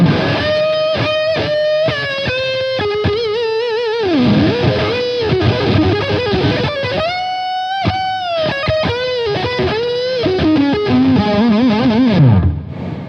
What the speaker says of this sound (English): It's a kind of a different fuzz.